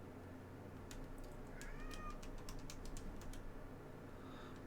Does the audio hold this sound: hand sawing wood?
no